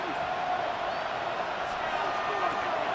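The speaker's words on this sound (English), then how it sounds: "This crowd into it now as we get to 3rd down." Stadium crowd in Madden NFL 26 at a Super Bowl game between the Kansas City Chiefs and San Francisco 49ers, a steady broad roar of many voices that holds at an even level, with a commentator talking over it.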